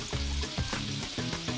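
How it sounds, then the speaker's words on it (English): Paella ingredients of meat and fish sizzle and crackle steadily in a very thin paella pan on the stove, a dense close hiss with a few stirring knocks and no talk. "Just leave those to sizzle for a moment."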